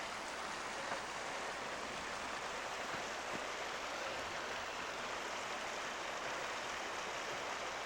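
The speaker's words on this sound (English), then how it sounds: "pretty nice little creek flowing." Jemez Creek, a small mountain creek climbing toward the Valle Grande caldera in New Mexico, flows with a steady, even broadband rush of water, constant and fairly close throughout with no voices.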